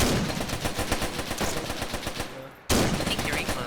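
Rifle fire during an army training exercise in Tunisia, rapid repeated loud shots in quick bursts, nearby, with a brief dip in sound before firing resumes.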